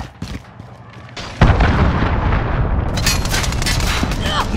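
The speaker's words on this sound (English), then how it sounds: "Allied cruise missile away." An allied cruise missile strike in Call of Duty: Modern Warfare hits with a loud, close boom that swells into a sustained rumbling roar. Another crackling burst follows toward the end, over faint earlier background noise.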